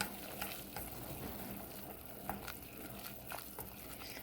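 Mushrooms and noodles for ramen cook in a pan with a steady, soft sizzle and a few light stirring clicks and scrapes, close by and without speech.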